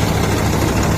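A Swaraj 855 tractor engine runs steadily while powering a Jagatjit straw reaper making chaff. It gives a loud, close, continuous low rumble with dense mechanical noise and no break.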